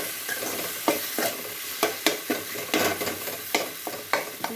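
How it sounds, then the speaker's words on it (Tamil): Cooked chana dal being stirred into a sizzling vadakari mixture in a pan, with a spoon scraping and knocking in a steady rhythm of sharp strokes over a constant frying hiss. "அப்படியே ஆட் பண்ணி நம்ம மிக்ஸ் பண்ண போகிறோம்."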